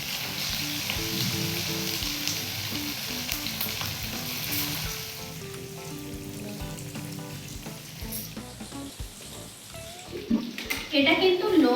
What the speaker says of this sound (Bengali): এবার চিকেনটা ভেজে নেব